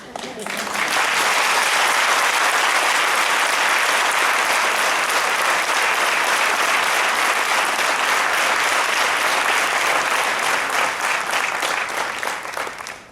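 Audience at a religious discourse applauding, a dense, sustained burst of clapping from many hands that holds loud and steady for over ten seconds before tapering at the end.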